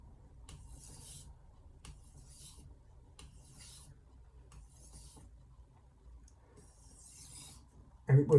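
A Masono 10mm knife is drawn across a sharpening plate in slow, even strokes, about six quiet gritty rasps spaced roughly a second apart, ending with a couple of louder knocks.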